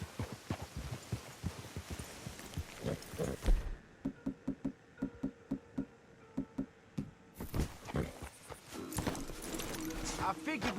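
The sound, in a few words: horses' hooves clip-clopping, from video game Red Dead Redemption 2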